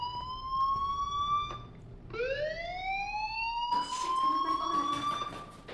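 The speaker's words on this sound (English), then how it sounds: "do you hear that fire alarm?" A fire alarm rings in the video game Life is Strange, loud, rising electronic siren tones that sweep upward, break off, then restart and hold steadily, heard alone and close.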